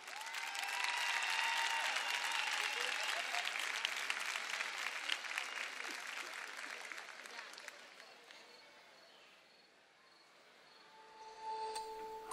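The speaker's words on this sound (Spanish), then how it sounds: "Un fuerte aplauso para Drag Sira" Audience at a drag gala in Corralejo breaking into loud, dense applause that fades over several seconds to near quiet, then swells slightly again at the end.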